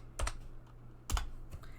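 Typing on a computer keyboard: a few close, crisp key clicks in two or three small clusters, with quiet pauses between them.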